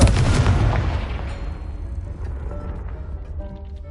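A Confringo blasting curse explodes in the video game Hogwarts Legacy, one loud booming blast that decays into a long rumbling tail, with faint ringing tones as it fades.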